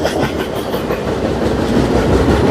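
A Thiruvananthapuram–Lokmanya Tilak passenger express rolls past close by, its last general compartment going by. A loud, continuous rumble carries rhythmic clickety-clack wheel beats, with no talk.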